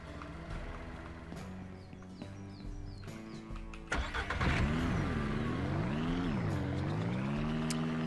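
Car in the farming game Ranch Simulator: an engine idles, then starts up loudly and revs as the vehicle pulls away, pitch rising and falling with acceleration, close and continuous.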